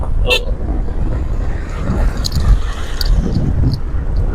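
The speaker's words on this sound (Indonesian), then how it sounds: "Mobil lagi ya." A car passes close by on a busy road with a short horn toot near the start, set against steady loud traffic rumble throughout.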